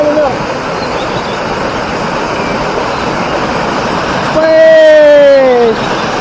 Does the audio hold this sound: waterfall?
yes